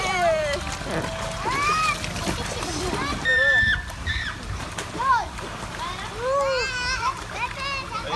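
A young child splashes and sloshes water while bathing, irregular nearby splashes mixed with child vocalizations and adults talking throughout.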